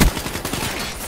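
The KN-44 assault rifle fires a rapid automatic burst in Call of Duty: Black Ops III, a quick train of close, punchy shots lasting about a second with no voices.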